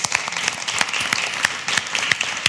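A crowd at a live carnival broadcast applauds the organising committee, brisk irregular hand clapping from a modest group, fairly close and steady through the short stretch with no words.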